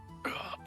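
One short, close cough from a person, a single rough burst lasting a fraction of a second in a quiet room.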